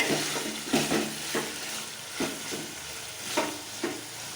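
Chicken curry masala fries on a high flame, a steady sizzle punctuated by regular scraping stirs of a spoon against the pan, close up with no voices.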